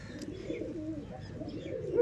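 Pet pigeons, including a Teddy and an army-type pigeon, give soft, low cooing in a steady run close by, with no speech over it.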